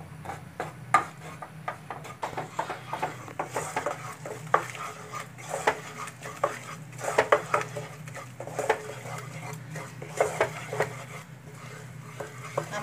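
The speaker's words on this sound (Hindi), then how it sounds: "पहले हम घी डाल देंगे और इसमें डाल देंगे बेसन और इसको भूरा होने तक सेक लेंगे" Gram flour roasting in ghee in a pan, with a spoon repeatedly scraping and clinking against the metal in an irregular stirring rhythm, close and steady, with no talk.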